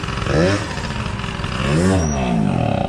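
The engine of a 1988 Honda Tact scooter with a loose carburetor runs close by, its pitch rising and falling in two uneven revs over a rough idle, with someone talking over it.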